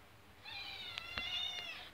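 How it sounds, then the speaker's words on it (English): A domestic cat gives one drawn-out, close meow of about a second and a half, set against faint outdoor background noise on a sunny porch, with no talking. "Got my cat."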